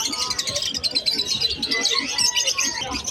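Pet birds at a sale chirp and tweet busily and continuously nearby, with overlapping calls, some cooing, and faint voices in the background.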